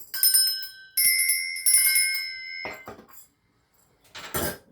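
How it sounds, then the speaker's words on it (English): Small bells rung to cleanse a space, three bright ringing strikes in quick succession with long shimmering tails, a short pause, then a final burst of clear, close chiming. "I'm going to ring my bells. This is just to cleanse the space around us."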